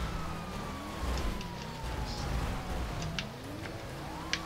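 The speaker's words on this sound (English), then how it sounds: "Stop the siren." A wailing police siren in the video game GTA V sweeps up and down over a low engine rumble, with a few faint clicks and knocks scattered across it.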